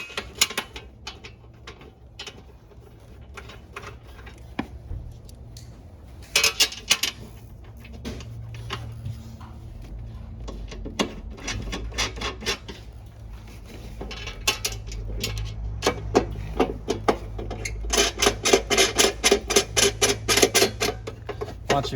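Bolts being tightened on a dual battery tray in a 300 Series fitout: rapid metallic ratcheting clicks come in bursts, close and crisp, speeding into dense runs toward the end, with light clanks of tools between them.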